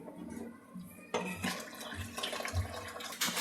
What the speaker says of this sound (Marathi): हे पाणी गरम केलेलं आहे आपण, हे पण बिर्याणीमध्ये टाकून घ्यायचे.